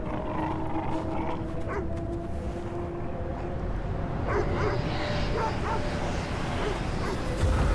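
A dog in a video game barks and yips in short bursts, with whimpering mixed in, against a continuous game soundscape. Someone talks briefly underneath.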